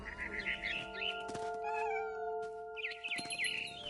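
A cat meows repeatedly in the video game What Remains of Edith Finch, with drawn-out, wavering cries standing out clearly over a steady sustained musical drone, no talking.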